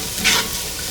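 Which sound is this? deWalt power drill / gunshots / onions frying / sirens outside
onions frying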